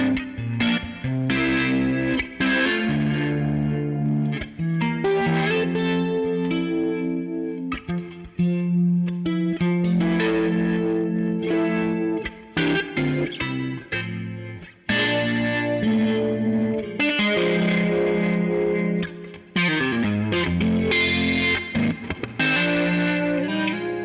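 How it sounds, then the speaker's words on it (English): An electric guitar runs through a chorus-like rotating Leslie horn effect with distortion, playing a dreamy song. Its throbbing, wavering notes ring continuously, with brief gaps between phrases and no talking. "It's like got kind of a chorus vibe, but you can hear the throb, like the rotating horn of the Leslie"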